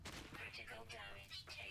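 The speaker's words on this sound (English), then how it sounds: "Shoot that thing" Gunfire from the video game No Man's Sky crackles in rapid overlapping bursts, dense and steady at moderate loudness, with game noise blending underneath.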